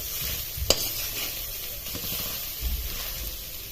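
Pieces of coconut frying in hot ghee, a steady close sizzle and hiss with a sharp pop early on and soft stirring scrapes, with no talking.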